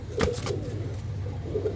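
Andhra-line racing pigeons coo softly a few times over a steady low hum, the calls close but muted, with no one talking.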